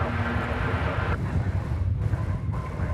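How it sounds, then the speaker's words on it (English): An American Airlines jet in Medal of Honor livery arrives at DFW Airport, a faint, distant engine rumble and hiss from an approaching plane, low and steady, with no talk over it. "catch the Medal of Honor livery coming in on American Airlines"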